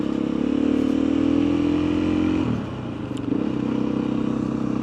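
A motorcycle cruising along rural back roads toward Whittington in the Lune Valley, its engine a steady close drone that dips briefly mid-way before settling back in, with no talking.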